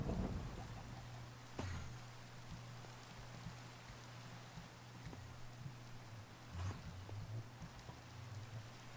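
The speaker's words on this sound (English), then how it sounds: "Yeah, it's raining and such." Steady rain falls in the video game Minecraft as a constant soft hiss across the whole stretch, with a couple of brief louder thumps near the start and middle.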